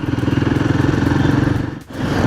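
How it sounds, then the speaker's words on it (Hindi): A Royal Enfield Himalayan 450 motorcycle engine idles and runs close by, a loud steady pulsing thump with a brief dip near the end before picking back up. "ये 450 हिमालयन एक मस्त परफेक्ट बाइक है"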